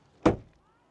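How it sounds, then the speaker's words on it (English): A BMW 3 Series car door closes with a single solid thunk and a brief fading rattle, close by. "let's check out the door closing sound"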